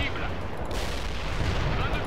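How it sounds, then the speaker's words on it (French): Heavy artillery in the Cold War strategy game World in Conflict keeps up a dense, continuous roar of booming impacts, loud and sustained throughout, with one sharper hit partway through. "J'ai l'artillerie lourde."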